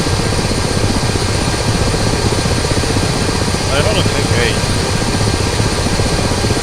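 Ka-50 helicopter rotor and engine in a flight simulator game, a loud, steady drone with rapid blade chop running throughout, with someone talking over it.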